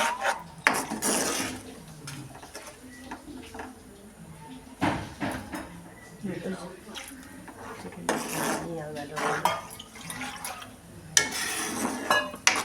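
A spoon stirs a potato curry in a metal pot, giving close, repeated clinks and scrapes against the pot in uneven bursts, with a brief spoken phrase in between.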